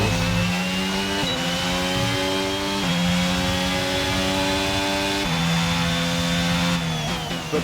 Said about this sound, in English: But the Red Bull engine just sounds fantastic, I would say.